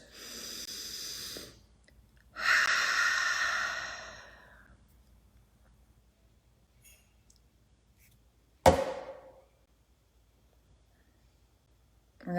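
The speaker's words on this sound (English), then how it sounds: "I'm going to take a deep breath first." A single deep breath taken close to the microphone in a quiet room: a slow inhale, a brief pause, then a long, audible exhale, followed by a faint click and near silence.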